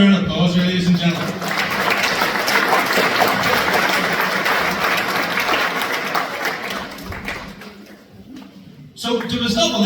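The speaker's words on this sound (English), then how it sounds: "Give it a round of applause, ladies and gentlemen." An audience at a young farmers' club arts festival in Moneymore applauds for the panel, a loud sustained wave of clapping that holds for several seconds, thins out, and then gives way to a voice speaking.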